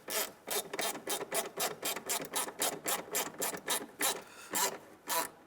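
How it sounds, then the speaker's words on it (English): A ratchet tightens a bolt on the HVAC blower motor assembly of a 1992-1996 Ford F-150, giving a steady run of quick, evenly spaced clicking strokes up close, with a brief pause near the end before a few final strokes. "So we'll start right here with this bolt. And we'll go ahead and tighten this down."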